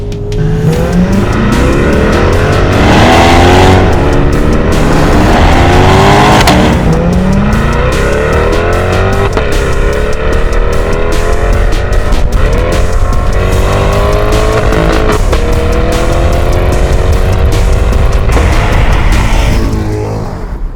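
A 2022 Chevrolet Corvette Stingray C8 in its loudest drive mode, with the engine and exhaust roaring loud and close through repeated rising revs and gear changes as it accelerates hard, with bursts of tire squeal.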